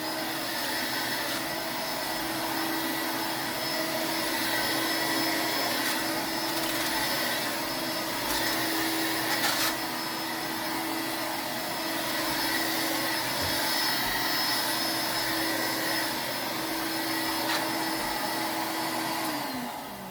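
A 1986 Electrolux Discovery II bagged upright vacuum cleaner running on carpet, giving a steady continuous motor whine and airflow roar with a constant tone throughout, moderately loud and uninterrupted, with no voices.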